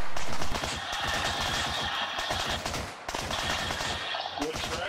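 Rapid bursts of automatic gunfire crackle in an Arma 3 military simulation battle, loud repeated rattling shots in two volleys, with brief voices mixed in.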